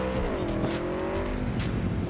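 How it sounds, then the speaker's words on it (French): A car in the video game Cyberpunk 2077 drives past with a steady engine drone and rising, shifting pitch, tires faintly squealing, loud and continuous across the short moment with no talk. "Oh la voiture!"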